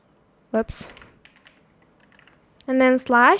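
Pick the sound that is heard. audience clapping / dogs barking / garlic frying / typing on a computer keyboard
typing on a computer keyboard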